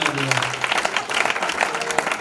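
A church congregation applauds during a sermon on marriage, a thick, steady round of clapping from many people with a voice briefly audible underneath at the start.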